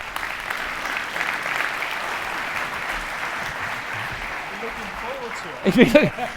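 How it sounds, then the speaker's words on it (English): An audience at a national sales conference keynote applauds a volunteer, with a continuous wash of clapping for several seconds before a speaker's voice rises loudly over it near the end. "Give it a round of applause."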